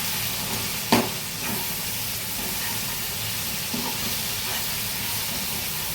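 Okra and potato frying with spices in oil, a continuous hissing sizzle with a single sharp clank of a utensil early on and faint stirring scrapes afterward, no talk.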